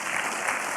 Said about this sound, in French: n'applaudissez pas n'importe quand, on n'est pas à la télé